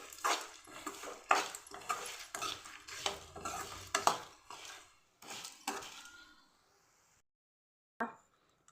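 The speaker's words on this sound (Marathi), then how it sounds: "अशा पद्धतीने मी हा मसाला भाजून घेत आहे." Masala being dry-roasted and stirred in a kadhai on a gas stove, a utensil scraping the pan in repeated uneven strokes, fairly close and moderately loud, then stopping near the end with a brief clink.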